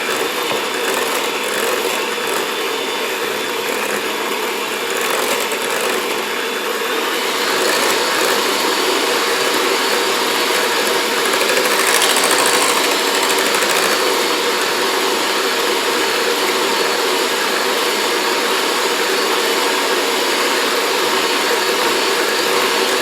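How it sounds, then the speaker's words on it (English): An electric mixer whips cream cheese for an Oreo cheesecake filling, a loud steady whirring drone that runs continuously and alone throughout, with a slight rise in intensity partway through. "And by mixing it with the mixer,"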